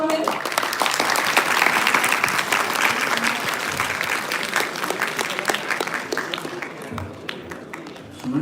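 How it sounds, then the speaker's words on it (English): Sustained audience applause greets a guest speaker, Mr. Vidya Bhushan, as he joins the stage at a school-to-college talk; dense steady clapping from a crowd fills the whole stretch, with a few louder individual claps near the end. "A big round of applause for him."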